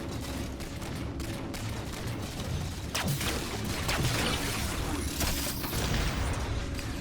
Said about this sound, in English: look for where I can hear the gunshots coming from